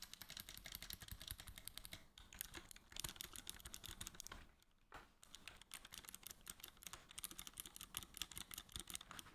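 Rapid typing on a gaming keyboard, a steady stream of close, crisp key clicks with a brief pause midway before the fast keystrokes resume.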